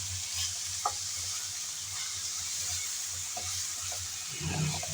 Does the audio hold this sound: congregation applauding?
no